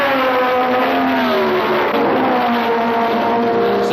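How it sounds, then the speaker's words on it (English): A 1960s Grand Prix race car screams past at full throttle, a loud, high engine howl whose pitch shifts as it passes close by, with no talk over it. "75 laps and 27 of the fastest cars in the world lapping them up"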